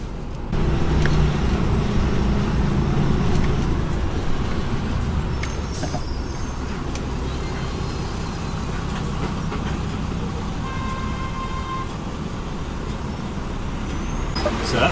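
Busy street traffic on a difficult one-way route, a truck nearby, with a loud low engine rumble that swells early then settles into a steady roar, plus faint squeals and clanks throughout.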